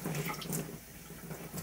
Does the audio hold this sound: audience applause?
no